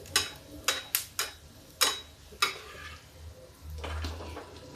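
Singhara flour puri shallow-frying in a little ghee, with a low steady sizzle and several sharp clinks of a utensil against the pan, alone with no voices.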